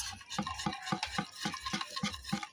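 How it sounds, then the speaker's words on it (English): Chocolate crepe batter being mixed in a bowl, a rhythmic series of about ten quick whisking strokes, close and even-paced, with no voices. "And then I mix."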